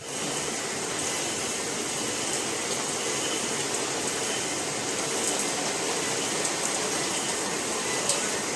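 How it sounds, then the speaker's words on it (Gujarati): Constant, even hiss of rain falling outside, steady and moderately loud with no voices or distinct drops standing out. "બહાર મસ્ત મજાનો વરસાદ પડી ગયો છે"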